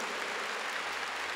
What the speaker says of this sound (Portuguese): Pode aplaudir com força